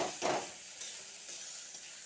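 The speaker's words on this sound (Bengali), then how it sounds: "এবার গ্যাসের ফ্লেমটাকে লো টু মিডিয়ামে করে পটলটাকে মশলার সঙ্গে ভালো করে মিশিয়ে নিতে হবে" Mashed pointed gourd is stirred with spices in a pan over a low-to-medium gas flame. A brief scraping stir comes first, then a soft, steady sizzle continues close by with no talking.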